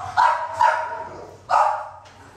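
Barks from an XL pitbull, three loud, close yips spaced about half a second to a second apart, with a faint low hum beneath.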